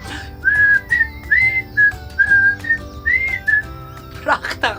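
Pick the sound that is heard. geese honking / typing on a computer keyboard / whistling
whistling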